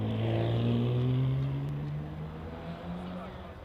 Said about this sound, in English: So the E-Type of John Harding just heading out up Cedar Straight